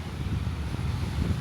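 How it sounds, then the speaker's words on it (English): Breeze buffets the microphone outdoors on the grounds of the Grand Hyatt Muscat hotel in Oman, a steady low rumbling wind noise with soft gusty swells and no voices. "It's a bit breezy."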